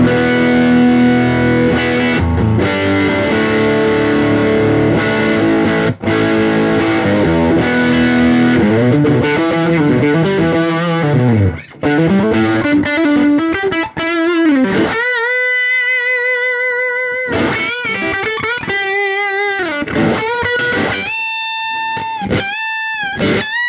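Heavily distorted electric guitar through a tube amp, heard in a series of bias-test clips with 1 ohm bias measuring resistors: dense sustained chords give way to single-note lines and bends with short gaps, loud and alone.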